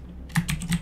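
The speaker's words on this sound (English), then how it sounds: "press the X key on your keyboard, and then you can name it" A short burst of computer keyboard typing while entering a ship's name: several quick, close keystrokes in an uneven rhythm, quiet and alone with no talk.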